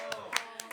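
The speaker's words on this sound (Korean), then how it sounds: "박수!" Several brief bursts of clapping, a few scattered claps rather than sustained applause, close and fairly quiet, at a church youth service.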